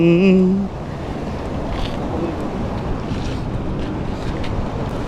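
Steady wind roars outdoors at a forest waterfall, a continuous broad rush filling the whole scene after a brief tonal sound at the start.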